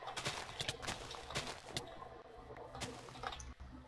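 Hooves clip-clop in quick, irregular bursts around a horse pen in the Minecraft video game, fairly close and mixed with other busy game sounds.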